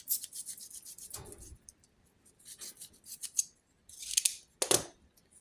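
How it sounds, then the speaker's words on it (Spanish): Scissors snip through the cable of an LED strip light for a car's footwell, several separate crisp cuts with rubbing handling noise between them, close and fairly loud, with no talking. "Ahora cortamos acá."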